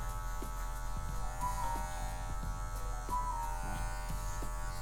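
Electric hair clipper fitted with a number 2 guard cutting hair during a medium fade, a steady close buzz with slight shifts in pitch as it is pulled downward, running continuously without talk.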